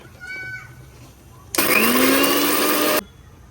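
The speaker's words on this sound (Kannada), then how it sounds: "ಈಗ ಹುರಿದಿರೋದನ್ನೆಲ್ಲ ಮಿಕ್ಸಿ ಜಾರಿಗೆ ಹಾಕ್ಕೊಳ್ತಾ ಇದ್ದೀನಿ. ಇದನ್ನು ಮಿಕ್ಸಿ ಮಾಡ್ಕೊಳ್ತಾ ಇದ್ದೀನಿ" A mixer grinder crushes roasted crab masala spices to a coarse texture, a loud, steady whirring burst of about a second and a half that starts abruptly and cuts off cleanly after a quieter lead-in.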